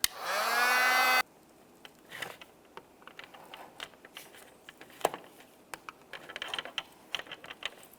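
Heat gun or hair dryer blowing hot air onto the upper grille emblem of a 2014-2019 Toyota Corolla to soften its double-sided tape: a loud, steady whirring blast that cuts off after about a second, then scattered clicks and handling noises.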